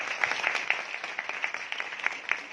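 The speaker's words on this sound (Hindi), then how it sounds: "ऐसे हर्षद भाई के लिए जोरदार तालियां हो जाए।" Festival audience applauding, a steady wash of many hands clapping at moderate distance with no voices on top.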